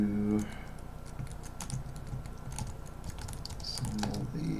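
Computer keyboard typing during a live-streamed RPG session, a scattering of light quick key clicks at moderate distance over a low background hum and game sounds, with no talking.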